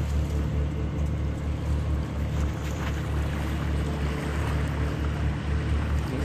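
A sailing yacht motors under engine at sea, a steady low engine drone with a faint regular pulse beneath heavy wind buffeting on the microphone, with no talking.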